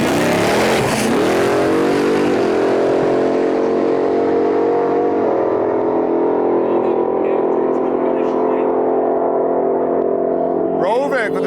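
A drag racing car at Sick Week 2025 roars loudly and steadily from the strip, its engine note rising as it launches. Near the end, a brief burst of crowd or announcer noise comes through.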